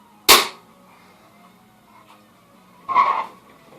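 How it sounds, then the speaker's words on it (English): A Crosman 2100 air rifle fires an RWS pellet with one sharp, close crack, followed by a softer second burst about two and a half seconds later and quiet room tone between. "Shot number 5, final shot with the RWS."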